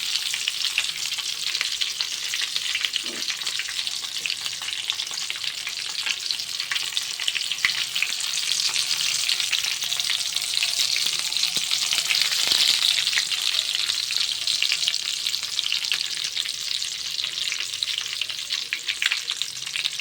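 Stuffed whole eggplants fry in hot oil in a kadai over a medium flame, giving a loud, steady, dense sizzle throughout with occasional small pops and no talking.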